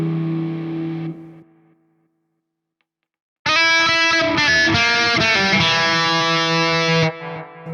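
Single-coil Stratocaster played through a Spark amp with distortion, a sustained chord ringing loudly after a short burst of playing and a few seconds of near silence where the noise gate cuts the hiss.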